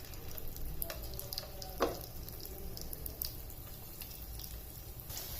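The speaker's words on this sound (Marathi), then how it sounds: "तेल थोडं गरम झाल्यानंतर यामध्ये आता टाकूया हे कटलेट." Soybean cutlets frying in hot oil in a pan, a steady soft sizzle with a few sharper crackles and one brief louder spatter, close and continuous with no voices.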